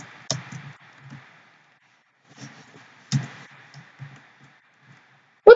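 Laptop keyboard clicks during a Minecraft Egg Wars game, sparse and irregular: a few sharp taps separated by long quiet gaps, close-miked, ending in a loud clack, with no talking.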